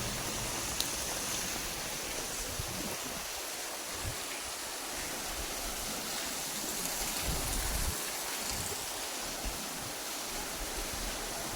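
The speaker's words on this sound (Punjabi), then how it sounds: "ਕਿਵੇਂ ਗੰਦਾ ਪਾਣੀ ਜਾ ਰਿਹਾ ਹੈਗਾ ਮੀਂਹ ਦਾ" Heavy rain pours down while muddy rainwater rushes along a street drain, a dense, steady hiss and rush of water that fills the scene without pause.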